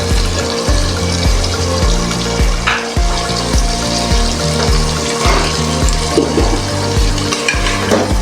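Half a glass of water poured into a pot of spinach and meat curry, giving a loud, busy splashing and bubbling with rhythmic clinks and stirring over several seconds.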